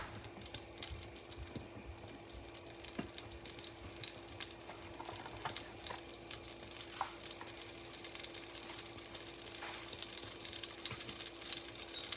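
Desi ghee heating in a pan for dal, a steady faint crackle and sizzle with small pops running throughout, no voices.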